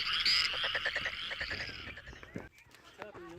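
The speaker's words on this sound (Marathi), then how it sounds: "वाव, तुम्ही ऐकताय का मोराचा आवाज?" A peacock calls near the hill fort of Kanifnath Gad at Bopgaon near Pune, a loud, high wailing cry at the start that tapers off, followed by fainter scattered sounds in the open air.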